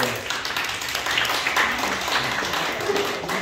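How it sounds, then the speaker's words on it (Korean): A youth church congregation claps together during a worship service, a dense, steady round of applause with some voices mixed in. "박수로 한번 축하해 주세요."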